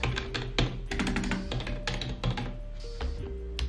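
Typing on a Klim computer keyboard, a quieter, softer board: a rapid, uneven run of close keystrokes with clicky taps throughout.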